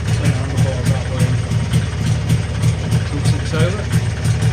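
An MZ TS125 two-stroke motorcycle fitted with a Mikuni carburettor ticks over at idle with a steady, regular low pulsing beat, close by and fairly loud, while someone talks over it.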